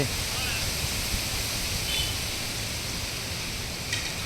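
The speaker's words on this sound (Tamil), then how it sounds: "சாரல் தான் அடிக்கி பெரிய மழை வரமாட்டேங்கானஜி" Light drizzle falls outdoors, a soft, even wash of hiss that holds steady throughout while people talk over it.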